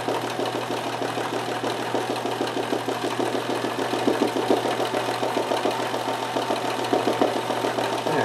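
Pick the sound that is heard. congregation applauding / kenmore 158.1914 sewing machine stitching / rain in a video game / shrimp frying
kenmore 158.1914 sewing machine stitching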